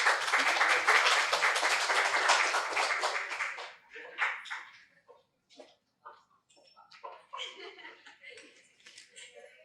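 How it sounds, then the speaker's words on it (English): Audience clapping at a pediatrics graduation ceremony, a dense burst of applause for the first four seconds that then thins into scattered claps, chuckles and brief voices. "Round of applause."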